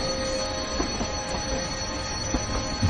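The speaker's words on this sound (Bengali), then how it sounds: "বিকট একটা শব্দ করে নড়ে উঠল ট্রেনটা।" A train jolts into motion in an audio drama scene, giving a steady loud rumble of rolling stock with a high wheel squeal held throughout and occasional knocks, with no talk.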